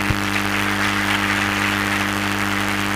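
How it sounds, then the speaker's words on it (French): Applause from an audience at a festival panel fills the whole stretch, a dense steady wash of clapping with a low hum underneath. "On applaudit s'il vous plaît."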